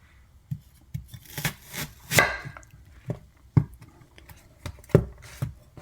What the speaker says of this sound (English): Next, I will thinly slice the onion